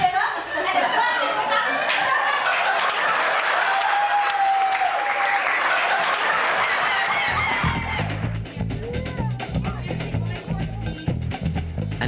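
Audience applause at a comedy camp show fills the room steadily, a dense wash of clapping with scattered laughter and chatter mixed in, thinning out toward the end as low voices emerge.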